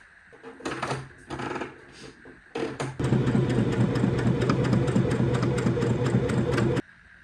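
A sewing machine stitches fabric for a toddler's Christmas top, starting with a few short bursts and then running in a steady, fast, close mechanical whir for several seconds before stopping.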